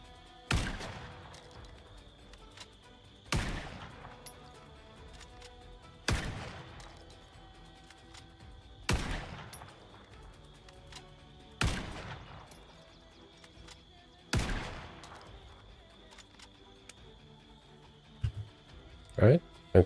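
Bursts of gunfire in a video game, set on a map with helicopter wreckage, come in six loud, sharp volleys roughly every three seconds over a steady electronic hum, with a final cluster of quicker shots at the end.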